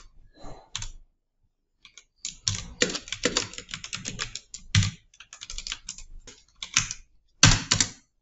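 VBA string-manipulation code being typed on a computer keyboard: bursts of quick, fairly loud key clicks separated by short pauses, with no voices.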